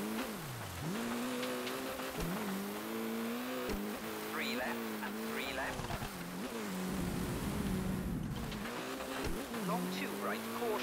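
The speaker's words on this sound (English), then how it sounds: "if you keep it in first gear, the gearing isn't long enough, so you're just bouncing off the rev limiter all the time" A rally car engine in ToCA Race Driver 2 held in first gear, its revs repeatedly rising and bouncing off the limiter in a stuttering pattern, with tyre noise and someone talking over it.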